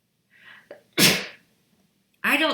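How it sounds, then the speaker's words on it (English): A single person's sneeze bursts out close and loud after a faint intake of breath, followed a moment later by a second sharp explosive sneeze, in a quiet room. "I'm going to sneeze now."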